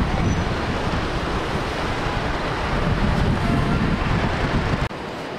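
Ocean waves in the distance heard from a hotel rooftop in Danang, Vietnam, a steady broadband wash of surf mixed with heavy wind noise across the microphone, continuous and fairly loud.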